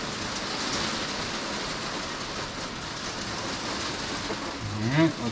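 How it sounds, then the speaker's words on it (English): Rain falls outside a garage workshop, a steady, broad hiss that runs throughout at moderate level, with a short squeaky tonal sound and a bump near the end. "you can hear the rain still going out there"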